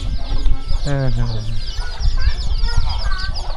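Free-range village chickens near a farmyard and pig pen cluck close by, with a rooster-like call rising briefly among short, busy bird sounds and a speaking voice mixed in.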